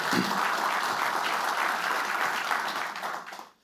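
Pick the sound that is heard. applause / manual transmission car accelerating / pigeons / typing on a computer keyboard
applause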